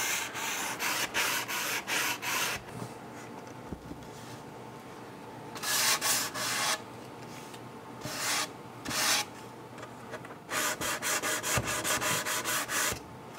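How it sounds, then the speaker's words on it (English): A sanding block rubs across wooden pieces, edges included, sanding with the grain, in close repeated bursts of scratchy back-and-forth strokes separated by short pauses. "I'm gonna hit these with sanding blocks"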